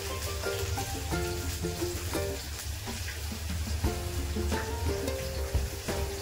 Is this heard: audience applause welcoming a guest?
no